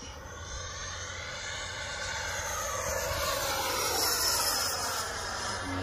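An electric ducted fan model T-33 jet's high whooshing fan whine holds steady and slightly swells as it flies past, with no voices.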